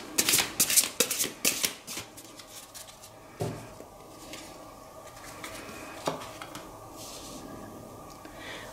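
Tarot cards handled during a card reading, a quick run of crisp shuffling flicks and slaps at first, then sparser soft card placements and rustles, close and moderately loud.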